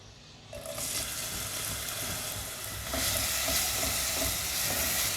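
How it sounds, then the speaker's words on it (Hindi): Onions hitting hot oil in a pan set up a sudden, steady close sizzle that swells louder midway and keeps going without pause, with no voices. "इसलिए मैं इसमें सबसे पहले डालूँगी प्याज।"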